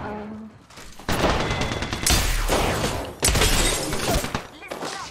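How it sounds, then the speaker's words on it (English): Gunfire and impacts in the video game Apex Legends, with bursts of rapid shots and shattering hits in dense, loud stretches, while a player talks over the action. "Look at Typho shooting them in the back."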